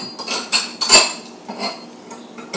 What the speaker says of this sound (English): You scrape it off with a knife.